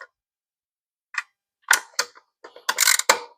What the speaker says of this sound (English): Just use a ratchet, nice and snug for all the bolts.